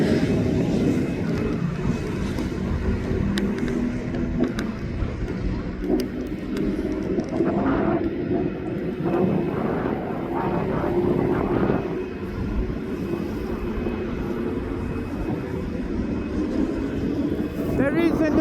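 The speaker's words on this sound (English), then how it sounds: "I'm having a look at this 747 now because they have got the APR unit on." A Boeing 747 jet at East Midlands Airport with its auxiliary power unit running gives a steady loud engine drone and rumble throughout, and a voice talks over it.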